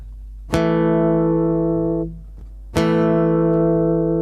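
Two guitar strings, the 3rd and 4th, plucked together ring out twice, each pair of notes sustaining and slowly fading before the next strike.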